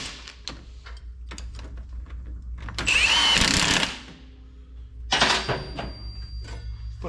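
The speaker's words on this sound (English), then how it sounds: "Tighten up all of our retaining bolts for the ball joints." A power tool tightens the 15 mm ball joint retaining bolts on a Polaris Ranger, with a few sharp clicks and clanks, then two loud bursts of whirring drive close by.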